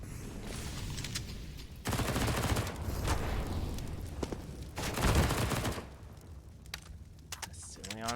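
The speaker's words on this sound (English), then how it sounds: "Gets that initial MP9 kill and narrowly dodges that HE as well to survive with 15 HP." Gunfire from an MP9 in a Counter-Strike match comes in two dense bursts of rapid shots, with mechanical clicks and clatter between them. Quiet commentary-like talk runs underneath.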